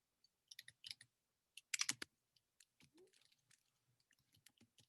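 Quiet close-up typing on a computer keyboard, irregular clusters of light clicks and taps with short pauses between bursts, no talking.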